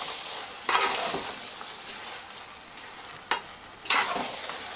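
Carrot halwa with almonds and coconut stirred in a pan: soft sizzling bed with three or four distinct scraping stirs of a spoon, close and fairly quiet, no talk.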